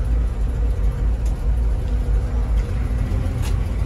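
A 1936 Dodge pickup with a rebuilt 305 V8 on an S10 frame sits running, giving a steady low idle rumble close by, with no other sounds breaking through.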